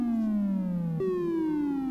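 A sawtooth wave from an oscillator on a Behringer System 55 modular synthesizer plays as a loud, buzzy, harmonic-rich tone that glides downward in pitch twice, jumping back up midway, heard alone.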